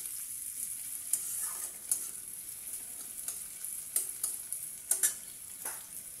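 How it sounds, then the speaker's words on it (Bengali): Onions sizzle steadily in a pan as they brown, with a spatula scraping and clicking against the metal in irregular strokes, close and alone with no talk. "পেঁয়াজগুলোকে অল্প অল্প ব্রাউন ব্রাউন করবো।"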